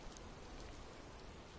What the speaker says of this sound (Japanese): 雨か。